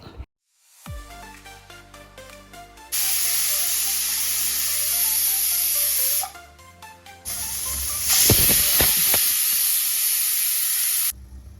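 Steam hisses from a pressure cooker holding stacked bowls for a drumstick curry: two long, loud, steady bursts of hiss with a short gap between, over soft music.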